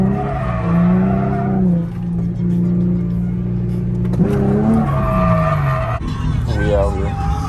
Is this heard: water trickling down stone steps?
no